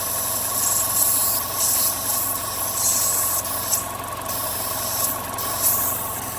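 A Chevy Sonic or Cruze engine idles just after starting, a steady low rumble with hissy high-frequency noise and a few faint bumps, with no talk.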